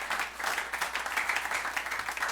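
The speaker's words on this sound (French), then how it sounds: "Clap your hands to Jesus." A church congregation clapping their hands together in a steady, rhythmic beat, a dense wash of many hands at moderate volume with no voices standing out.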